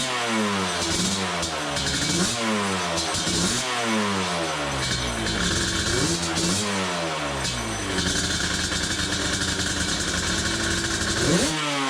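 A Yamaha 350 Banshee two-stroke ATV fires up and revs hard and loud, its engine note rising and falling in repeated throttle blips throughout, close and continuous with no pause.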